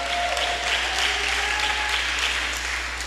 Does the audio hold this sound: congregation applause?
yes